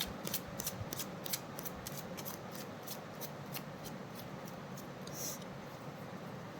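Tarot cards being shuffled by hand, a string of crisp riffling snaps in quick bursts, close and fairly quiet, with no voice over them.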